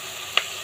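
Curry with slit green chilies sizzles as it is sautéed, a steady frying hiss topped by one sharp metallic clink of a spatula.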